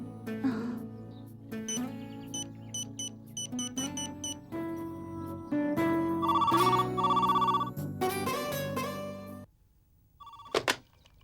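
A telephone rings after a call is placed, giving a series of repeated electronic ring tones and beeps at close range that pause and change pitch before a final short burst.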